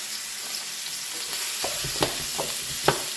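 Sliced onions sauteing in a hot pan for beef and broccoli Pad Thai, a steady close sizzle with a few sharp knocks of stirring near the end.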